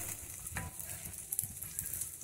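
Rice and meat sautéing on a plow disc set over a wood-fired stove, a close, continuous crackling sizzle with irregular spatters and stirring scrapes.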